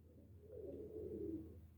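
A single soft, low coo from a blue pigeon rolls on for about a second, faint against a quiet background hum.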